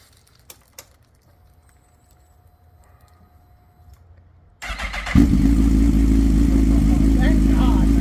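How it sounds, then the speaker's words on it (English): A GSXR1000R engine swapped into a KX1000R dirt bike fires up for the first time. Near-silence with a few small clicks gives way to a sudden start and a loud, steady, close idle. "GSXR1000R powered KX1000R dirt bike. First fire up."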